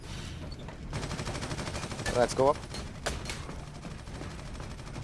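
Gunfire in a multiplayer shooter video game: sharp shot bursts and a short rattling volley crack through constant battle noise while players talk over it.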